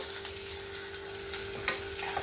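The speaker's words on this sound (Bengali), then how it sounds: "মাছটাকে সুন্দর করে লাল লাল করে আমি ভেজে নেব" Katla fish pieces frying in hot oil for a winter cauliflower and potato recipe, giving a steady close sizzle with a few brief louder crackles and no speech.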